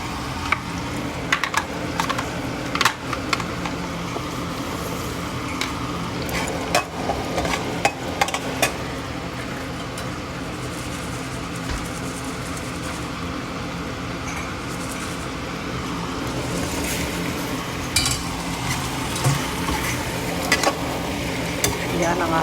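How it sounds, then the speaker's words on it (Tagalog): Butter garlic shrimp frying in a pan: a continuous sizzle with frequent clicks and scrapes of stirring, steady and close, with a voice talking over it at times. "maluto ta karon og butter garlic shrimp"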